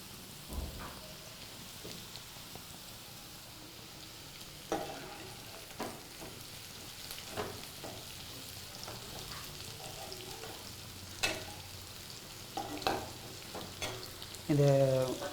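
Fenugreek seeds lightly roasting in a pan, a faint crackling rustle with scattered sharp scraping taps as they are stirred.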